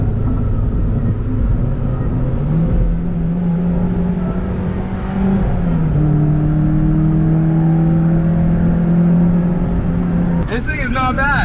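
A small Mazda Miata sports car engine, under 2 liters, revs and accelerates steadily from inside the cabin, pitch rising through the gears, with a brief high whine near the end.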